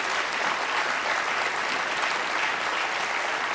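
Studio audience applause on a Quebec reality TV show, a steady dense wash of clapping filling the room at full strength from start to finish with no voices over it.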